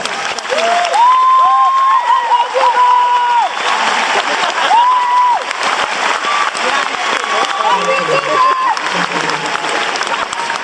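Sustained crowd applause and cheering at a high school graduation ceremony, loud and continuous, with whoops and tonal voices rising through the clapping.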